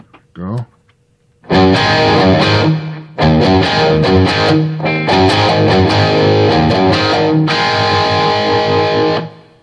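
Distorted high-gain electric guitar played through a Headrush MX5 modeling a 5150 amp rig with a small plate reverb, loud dense chugging chords and riffs after a brief spoken word and a short opening note.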